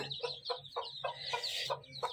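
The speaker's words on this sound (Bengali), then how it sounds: "এই তো দেখুন আমার আম্মুর ছোট ছোট কিউট কিউট মুরগির বাচ্চা।" Small chicks clucking close by in a rhythmic series of short calls, roughly every quarter second, with a brief louder flurry in the middle.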